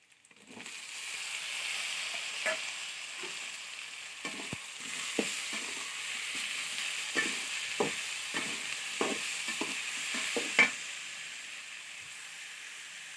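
Tomatoes sautéing in a pan for a mushroom and lima bean gravy give off a steady, moderate sizzle, broken by repeated scraping clicks of a spoon stirring at an uneven rhythm.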